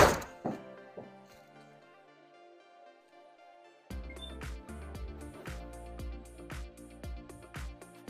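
Golf iron shots with a TaylorMade P770 iron: sharp, close strikes, one early impact and then a quick run of crisp clicks and thuds after a quiet pause.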